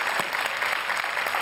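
Studio audience at a Marathi TV chat show claps steadily, a dense, even burst of applause filling the short moment with no talk over it.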